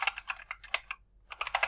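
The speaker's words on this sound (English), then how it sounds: "So here I'm just going to type in" Short burst of computer keyboard typing, a quick run of close key clicks, a brief pause, then another run of keystrokes, quiet and alone.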